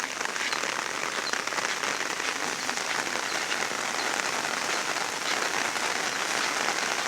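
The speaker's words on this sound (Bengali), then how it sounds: "বৃষ্টি প্রচুর, এখনো বৃষ্টি হচ্ছে।" Heavy rain pours steadily on a Bangladeshi village, a dense, even hiss of countless drops striking surfaces nearby, constant throughout with no one speaking.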